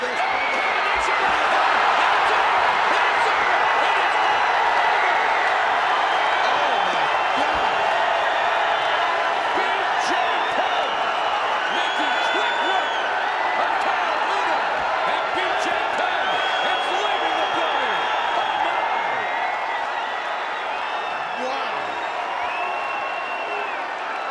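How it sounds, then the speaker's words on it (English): Arena crowd at UFC 34 in 2001, a steady roar of cheering and shouting that carries on without a break for the whole stretch, with scattered whoops and thuds inside it. "Man, look at this crowd."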